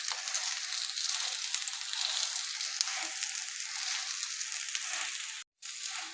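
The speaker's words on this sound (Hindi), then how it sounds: "अच्छे तरीके से आपने घी के अंदर इसको फ्राई कर लेना है" A mooli paratha fries in ghee with a steady, close, hissing sizzle that continues evenly, broken by one brief moment of silence near the end.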